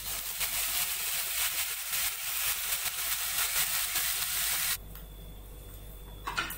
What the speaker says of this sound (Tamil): கருவேப்பிலை கொஞ்சம் போட்டுக்கங்க.